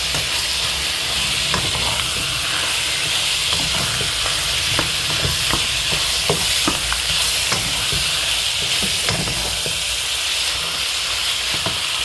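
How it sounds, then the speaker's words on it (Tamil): Chicken curry ingredients sauté in about a tablespoon of oil, giving a steady, close sizzle and hiss with occasional stirring scrapes and clicks throughout, and no speech. "இந்த எண்ணெயில் வதங்கட்டும்"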